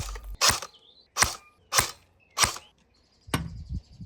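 An airsoft Cyma CM028 AK fires four sharp, evenly spaced single shots through a chronograph, followed by a fifth shot and a brief mechanical rattle, each a loud close snap with quiet gaps between.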